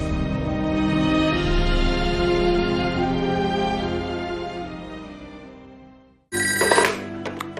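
A telephone rings steadily for about six seconds, loud and close, fades out and is cut off by a brief clatter as it is picked up.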